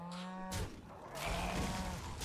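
A cartoonish cow moos in the game Warcraft Rumble as the Moo Cows unit deploys: two loud, drawn-out moos back to back, close and clear, with no talk over them.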